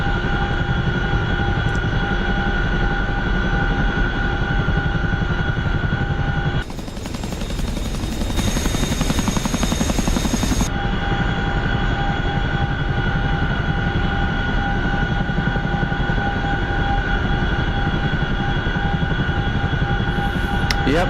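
A Chinook helicopter drones loud and steady with a dense rotor hum and strong tonal whine, broken midway by a few seconds of harsher broadband roar.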